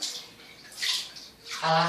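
Water sloshes and splashes in an improvised bath as a small animal is bathed, with bursts of pouring and splashing close by and talk over it.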